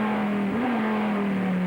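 A Lister GT race car on track in a 2000 FIA GT race, accelerating as the throttle opens, with a loud, steady engine drone whose pitch climbs slightly.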